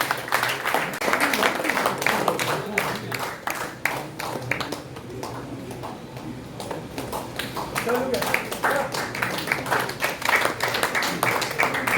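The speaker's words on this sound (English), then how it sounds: "Keep the claps going. Thank you." Sustained audience clapping at a Mumbai sports journalists' awards ceremony, dense and steady throughout, dipping briefly midway before swelling again, with voices speaking over it.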